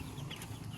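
Broiler chickens murmur and cluck softly inside a poultry coop during a daytime test with thirty birds, a low, steady flock hubbub with faint background hum.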